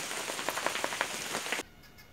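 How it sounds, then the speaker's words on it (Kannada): Rain pours steadily with a dense hiss and scattered drops for about a second and a half, then stops abruptly, leaving a faint quiet background. No one speaks. "ಮಳೆ"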